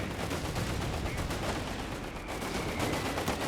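Heavy MG42 machine gun fire in the World War II strategy game Company of Heroes 3, a steady, dense rattle of shots filling the whole stretch, with commentary voices underneath.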